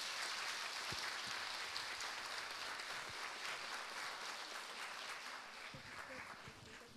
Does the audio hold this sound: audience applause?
yes